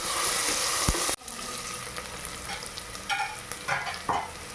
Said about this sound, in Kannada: ಈರುಳ್ಳಿ ಹಾಕ್ಕೊಂಡು ನೀಟಾಗಿ ನಾನು ಕಲಿಸ್ಕೊಳ್ತಾ ಇದ್ದೀನಿ